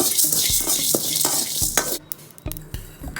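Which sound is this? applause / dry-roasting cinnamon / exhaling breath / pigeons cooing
dry-roasting cinnamon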